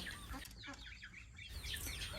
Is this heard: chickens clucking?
yes